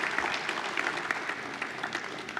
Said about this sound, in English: please, a big round of applause for our team who's been working really hard